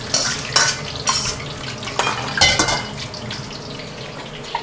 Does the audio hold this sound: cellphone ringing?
no